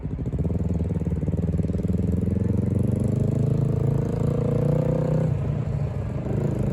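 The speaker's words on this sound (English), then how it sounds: "Wow, that bike sounds beautiful." A Yamaha R3 motorcycle engine runs steadily nearby with a smooth, even drone, its pitch rising gradually as it revs before dropping off near the end.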